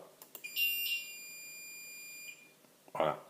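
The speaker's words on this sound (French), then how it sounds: "Si j'appuie ouverture, ça va faire un bip sur la centrale." A few short clicks, then a sustained electronic beep lasting about two seconds from a Somfy alarm control panel, followed by a brief rustle; quiet room, no talk.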